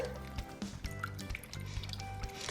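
Hot sugar water is poured into a pitcher for cucumber water, making a steady close trickling and splashing of liquid with small drips throughout.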